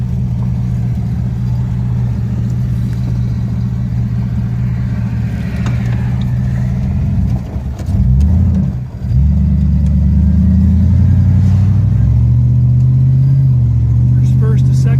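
1938 Chevrolet Master Deluxe with a Turbo 350 transmission, its engine rumbling loudly up close, pulling hard and then dropping briefly at a gear change before pulling again, with someone talking over it.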